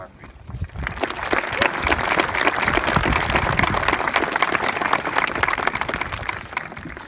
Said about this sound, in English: let us applaud the graduates who will be joining the armed forces next year